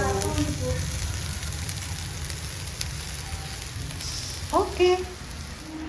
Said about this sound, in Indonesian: Hujan pemirsa.